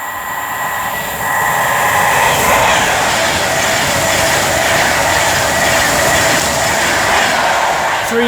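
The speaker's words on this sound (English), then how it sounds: "Here we have a Pendolino." An Avanti West Coast Pendolino electric train passes loud and close through a station on the West Coast Main Line, a steady rushing roar with rail hum and a faint high whine building after the first second and holding to the end.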